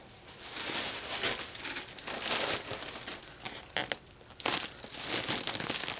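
A plastic bag of Mountain Mist fiberfill crinkles loudly up close, with continuous rustling and a few sharper crackling handling sounds.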